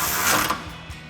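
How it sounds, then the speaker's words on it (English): Ratchet wrench with a 16mm socket tightening a bolt on a Jeep Gladiator JT rock rail, a brief burst of fast, close clicking with metallic rattle. "we're gonna take a 16mm socket and we're gonna tighten up the bolt on the Ruby rail"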